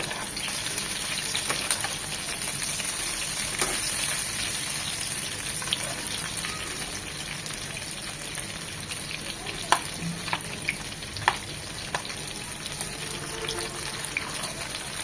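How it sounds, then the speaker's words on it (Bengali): Pieces of liver fry slowly in oil in a pan, a steady continuous sizzle and crackle with occasional small pops and clicks of a utensil near the end. "এভাবে আস্তে আস্তে ভাজলে হবে কি, মচমচে হবে, ভিতরে অনেকটা ক্রিস্পি হবে"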